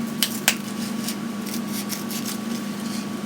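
Scissors snipping gently around the new cap of a coffee cup to free the filter, producing a few quiet, close clicks and soft cutting scrapes over a steady low hum.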